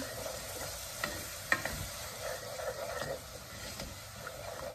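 Coconut cream bubbling and sizzling in a pot for Thai green chicken curry, splitting into oil at a low boil, with soft pops and a faint stirring scrape.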